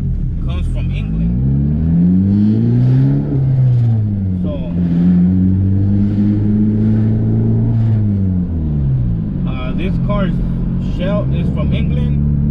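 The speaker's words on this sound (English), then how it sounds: "Sorry if you guys hear my exhaust more than my voice." A Honda EP3 hatchback, a JDM car built in England with a Japanese engine, drones steadily through its exhaust while driving, its pitch rising and falling with throttle, loud and continuous beneath someone talking.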